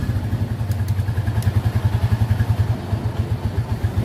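A Rusi TC-150 motorcycle engine idles close by with a steady, rapid thumping pulse and light mechanical clatter, running alone without voices.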